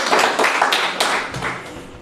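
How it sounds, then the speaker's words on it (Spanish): A church congregation claps together in a burst of rapid applause, loud and close, fading slightly toward the end. "Démosle un aplauso al Señor para que se despierten los que estamos queriéndonos dormir."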